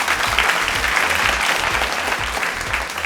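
Audience applause on a televised school quiz show, a steady wash of clapping with a rhythmic music beat pulsing underneath for the whole stretch.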